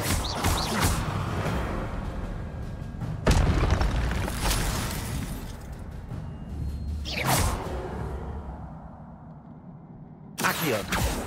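Fire spell effects from the Hogwarts Legacy video game burst out in several booming whooshes, each a sharp loud blast followed by crackling decay, spaced a few seconds apart over a busy game soundscape.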